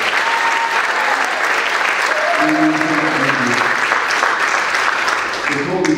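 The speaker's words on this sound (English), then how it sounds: "Give her a big round of applause, please." Sustained, dense applause fills a school awards ceremony, loud and even throughout, with a few voices faintly audible within the clapping.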